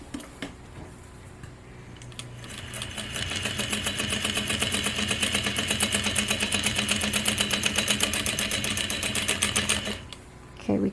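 A Juki DDL-8700 industrial sewing machine stitching with its tension cranked very tight: a fast, steady mechanical chatter that ramps up, runs for several seconds and stops, with a person talking around it.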